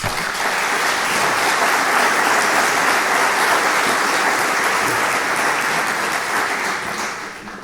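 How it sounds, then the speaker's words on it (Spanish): An audience at an inauguration event in Oviedo, Asturias, applauds loudly and steadily with dense continuous clapping that holds for several seconds before tapering slightly at the end. "Le damos, por favor, un fuerte aplauso"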